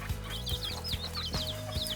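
Chickens, chicks and quail cluck and chirp steadily nearby in a mixed poultry coop, over a low droning hum, with a few soft thumps.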